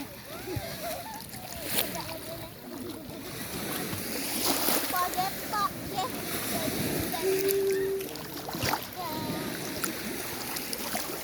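Sea water splashing and washing at a beach, continuous sloshing surf close by, with people talking and exclaiming over it.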